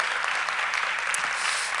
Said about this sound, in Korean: 자, 더 크게 격하게 박수합시다.